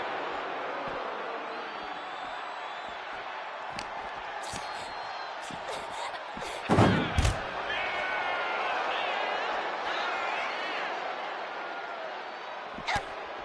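Metal ambulance back doors slam shut in a WWE 2K25 parking-lot brawl, one loud heavy bang standing out over steady crowd-like ambience and game sounds, with a smaller thud near the end.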